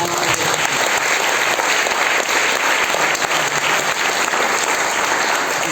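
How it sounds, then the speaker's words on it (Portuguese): A church congregation applauds together at an anniversary evening service, a dense, steady wash of clapping filling the room for several seconds with no voices over it. "Uma salva de palmas"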